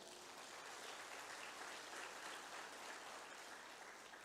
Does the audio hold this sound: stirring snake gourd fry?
no